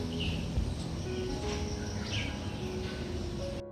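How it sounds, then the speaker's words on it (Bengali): Birds chirp and tweet outside an open window in the early morning, several high calls scattered over a steady background hum, moderately distant and without voices. "জানলাটা খুললে পরে এরকম কিচিরমিচির করা পাখির আওয়াজ"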